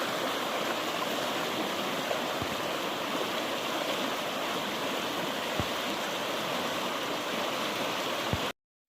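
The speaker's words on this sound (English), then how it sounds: "Follow one of the streams that joins up with this creek back up in the woods." A creek flowing through West Virginia woods, a steady, full rushing of water that stays even throughout and cuts off abruptly at the end.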